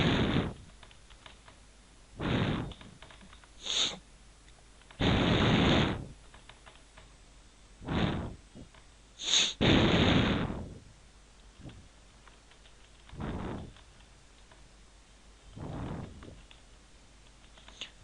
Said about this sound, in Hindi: हम कुछ वर्ड्स टाइप करते हैं, कुछ नाम।